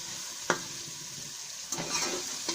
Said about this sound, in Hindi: हल्दी को थोड़ी देर हम भून लेंगे